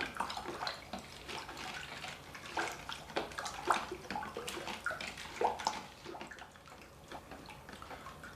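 Drink flavouring being stirred into water for frozen slushie cocktails, a steady wet swishing and sloshing with scattered clinks and drips running throughout, moderately close, with no talk.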